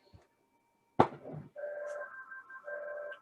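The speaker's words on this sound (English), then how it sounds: "We'll resume when the phone stops ringing." A telephone rings in a quiet room, a loud knock first and then two electronic warbling rings, each about half a second long, with a short gap between them.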